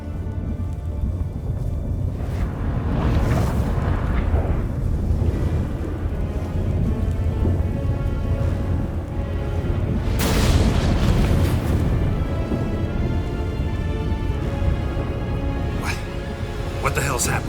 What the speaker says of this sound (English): That a storm?